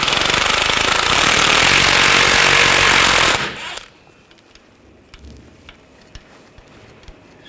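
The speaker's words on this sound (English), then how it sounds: "Using a 24mm socket, we're going to loosen this nut for the lower ball joint." A 24mm socket on an impact wrench loosens the lower ball joint nut on a 2014-2018 GMC Sierra 1500, a loud sustained rattling hammer for over three seconds, then stopping, followed by a few faint light metallic clicks.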